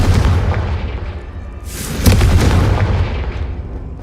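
Confringo fire spell from Hogwarts Legacy, a loud rumbling blast that swells into a fiery burst around midway, with a dense low roar continuing throughout.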